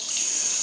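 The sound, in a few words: water running from a hotel bathroom tap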